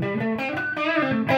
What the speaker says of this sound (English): Let us hear the clean tone of my guitar to engage in no gain mode as a preamp.